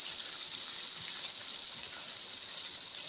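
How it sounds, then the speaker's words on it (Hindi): Water poured into an aloo matar curry in a pan, heard as a steady hiss and sizzle that runs for the full three seconds, with no talk. "और अभी हम इसमें थोड़ा सा पानी ऐड करेंगे।"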